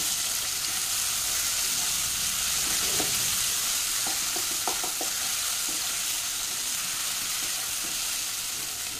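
Ginger-garlic paste being stirred into onions browning in hot oil: a loud, continuous sizzle with some steamy hiss, and a few soft scraping stir strokes near the middle.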